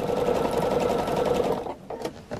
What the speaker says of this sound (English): my needle is riding on the black, and my stitches are going onto my top molding